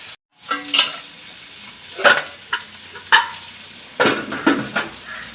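Fish fries in a pan in a home kitchen, with a soft steady sizzle broken by a few sharp clinks and scrapes as the pieces are turned, close and fairly quiet with no voices.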